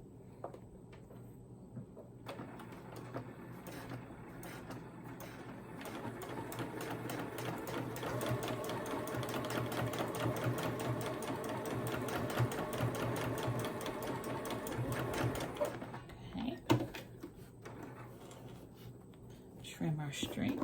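A sewing machine runs a straight stitch back and forth, a fast, even mechanical whirring and needle clatter that starts after a quiet moment and holds for about thirteen seconds before stopping, followed by small handling noises.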